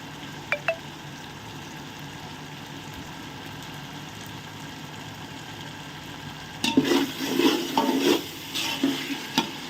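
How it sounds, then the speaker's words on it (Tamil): Garlic paste is stirred in a pot while Ambur chicken biryani is cooked. A steady low hiss runs throughout, and near the end louder scraping stirs and sizzles come close up. "இந்த பூண்டு போட்டாலே பேஸ்ட் போட்டாலே நீங்கள் வந்து கைவிடாமல் கிண்டிட்டுருங்க"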